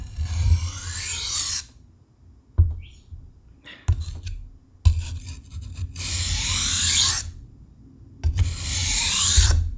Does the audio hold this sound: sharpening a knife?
yes